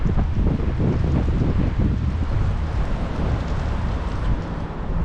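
Strong, steady wind roaring across the microphone outdoors on a seaside boulevard by the Caspian Sea in Baku, with a low rumbling buffet and faint water sounds beneath, continuous throughout.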